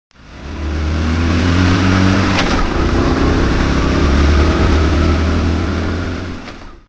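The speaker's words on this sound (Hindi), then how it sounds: "अपनी बाइक से ऑफिस के लिए निकलता है।" Motorbike engine starts up and pulls away, a loud, steady motor drone with a low rumble that rises in and fades out, heard alone as a story sound effect.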